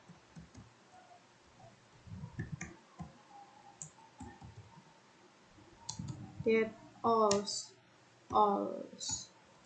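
Typing on a computer keyboard while entering commands into a Maple worksheet for a first-order differential equations exercise, a scattered series of light clicks and key taps with a few louder bursts, fairly close, under a voice talking.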